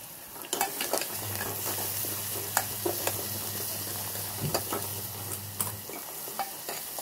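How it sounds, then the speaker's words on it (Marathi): Spices, coriander and turmeric sautéing in hot oil, a soft steady sizzle with scattered clinks and scrapes of a stirring spoon against the pan, close and fairly quiet, with a low hum running through the middle. "छान असं चांगलं परतवून घ्यायचं तेलामध्ये"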